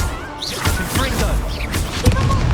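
Confringo fire-spell blast in Hogwarts Legacy on PS5 in a headless-ghost graveyard: a few dull thumping impacts and crashes over busy game noise, with a voice shouting over the action.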